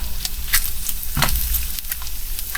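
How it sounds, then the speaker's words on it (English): Bacon sizzles in a pan on a home stovetop, a constant close crackle and hiss punctuated by a few sharp pops and the clatter of the strips being turned. "I like to constantly turn my bacon so it doesn't fry too fast on one side."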